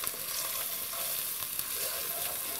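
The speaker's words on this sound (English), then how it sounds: "we're going to saute this about 10 minutes just to soften the carrots and the onions" Carrots and onions sautéing in oil with ground cumin for Armenian apricot soup, a steady, dense sizzle and fry with faint stirring, close and continuous with no talk.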